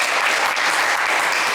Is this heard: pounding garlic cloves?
no